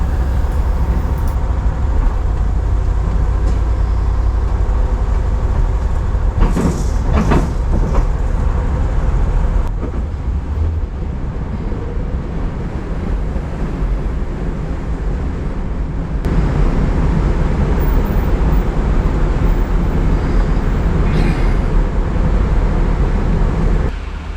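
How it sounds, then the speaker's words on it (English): Vehicle engine noise and a steady low rumble while driving onto the Edmonds, Washington ferry, continuous and loud, with a few brief knocks and clunks along the way. "I'm loading onto the ferry in Edmonds, Washington, heading for Joe at Old School Garage."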